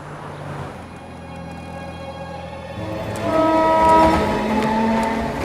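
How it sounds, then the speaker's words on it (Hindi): A train begins to move, its steady low rumble giving way to rising mechanical tones and clatter as it gathers pace, loud and close. "ट्रेन चल पड़ी"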